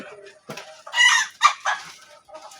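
A native country hen clucks nearby in a few short, choppy calls separated by brief pauses.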